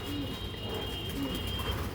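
A pigeon coos softly in a pigeon loft, two low throaty coos rising faintly above a steady background hum and a thin high tone.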